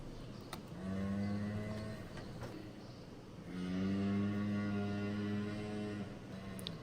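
A cow in pain from a hoof problem, being treated on a farm, lets out two long, loud, drawn-out moos separated by a short pause, close by and with no talking.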